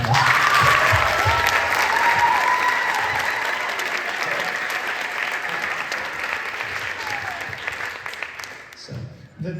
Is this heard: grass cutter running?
no